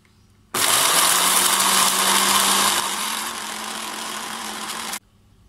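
A blender grinding spices whirs on abruptly, grinding loudly at close range for about four seconds, its pitch easing slightly before it cuts off.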